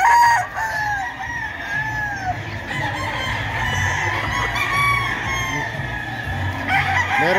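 Roosters, including green-legged game fowl, crow repeatedly among clucking chickens in a busy hall at a hobby expo and pet convention, loud and overlapping over a steady crowd murmur.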